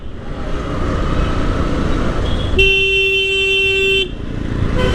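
A long car horn blares in heavy Dhaka city traffic, one sustained blast lasting over a second over a constant engine rumble, followed by a short faint toot near the end.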